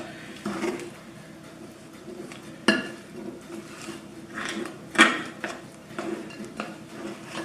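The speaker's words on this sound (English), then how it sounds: "Give that another good mix around, make sure everything's all mixed in." Biscuit dough with eggs being mixed by hand in a bowl for gingerbread men and star biscuits, giving soft scraping and stirring with a few sharp clinks of utensil against the bowl, close and fairly quiet.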